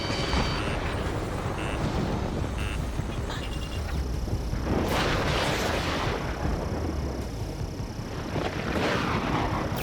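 Missiles launched in the flight combat game Ace Combat 7, heavy rushing roars and booming bursts layered over continuous loud jet engine noise, with several swelling whooshes through the stretch and no speech.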